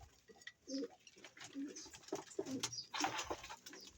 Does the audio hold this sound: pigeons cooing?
yes